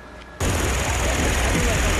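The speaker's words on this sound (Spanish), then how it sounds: "Con una explosión controlada, una brigada militar derribó los restos del puente de Baltimore" Controlled explosive demolition of the collapsed Baltimore bridge wreckage, resting on a ship, by a military brigade: a sudden loud broadband blast after a brief quiet moment, followed by a sustained heavy roar and rumble that fills the rest of the moment.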